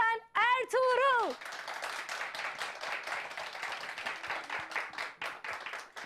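Steady clapping from a crowd at a Turkish folk music program fills the clip, following a brief rising vocal flourish at the start.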